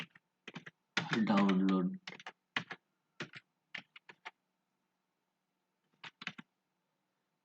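Keys on a computer keyboard click in short bursts as text goes into a search bar, the sparse taps spread across the clip, and a brief spoken word breaks in near the start.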